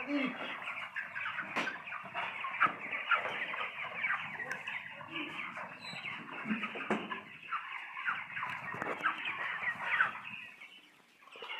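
Broiler chickens on a farm, housed on a raised mesh floor, clucking and chattering as a busy flock close by, with overlapping calls throughout and no talk.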